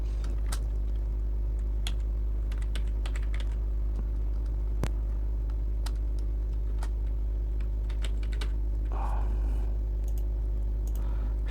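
Computer keyboard being typed on while writing a cross-site scripting script, faint irregular key clicks over a steady low hum, with no voices.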